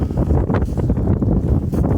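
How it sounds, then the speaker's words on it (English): Strong wind roars at an abandoned bridge, Yordy's Bridge, closed in 2024, with steady low rumbling gusts buffeting the microphone for the whole stretch and no voices. "Very windy today."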